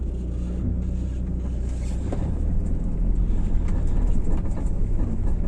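A rebuilt second-generation Mitsubishi Eclipse engine rumbles low and steady as the car pulls away down an alley, the drone rising slightly as it gets moving, close and continuous.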